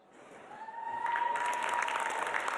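The audience at the Miss World 2013 pageant applauds, the clapping swelling from quiet to a full, dense ovation that continues steadily, with faint cheering mixed in.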